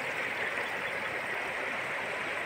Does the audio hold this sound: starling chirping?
no